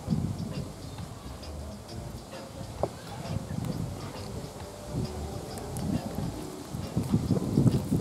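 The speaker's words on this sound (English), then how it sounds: "It's so windy here today." Wind gusts buffet the microphone outdoors in Jamaica, a steady low rumble that swells and fades, with faint ticking and a few distant background sounds.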